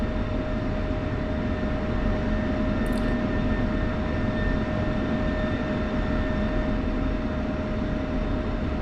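F-16 jet engine idling in the DCS flight simulator, a steady loud whine and rumble with a constant tone, unchanging throughout with no voices.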